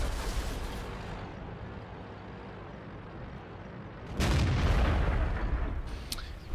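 A tank cannon fires in World of Tanks gameplay, with a Type 61 in the match: a sudden loud boom partway through that rolls out with a rumbling tail over steady engine and battle noise.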